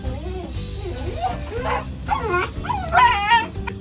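German Shepherd, Lhasa Apso and Beagle puppies at a sale make close, high whimpers and yips with short barks, whining in rising and falling pitches throughout.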